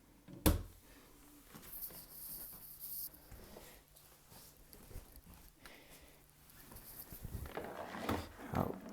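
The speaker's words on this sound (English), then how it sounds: "So shut the door." The door of a wine cooler under repair is pushed shut with a single sharp thud near the start, followed by quiet handling noises and faint room sounds.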